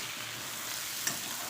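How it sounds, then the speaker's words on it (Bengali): Paneer curry with a little sauce and sugar sautés in a pan, producing a steady, soft sizzle and frying hiss throughout, with one brief faint clink, close by and with no voices. "অল্প সস দিয়ে দেবো, চিনি, এটাকে কষাবো।"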